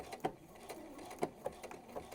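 A sewing machine blanket stitching around a fabric applique, a few soft rhythmic needle thumps and mechanical clicks at close range, with no talk.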